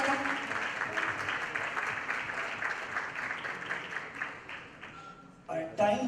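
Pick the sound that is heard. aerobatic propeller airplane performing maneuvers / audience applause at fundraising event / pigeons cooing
audience applause at fundraising event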